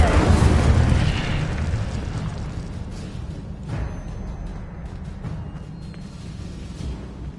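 An Incendio fire spell blasts in Hogwarts Legacy, opening with a loud, booming burst that fades into a long crackling, rumbling tail.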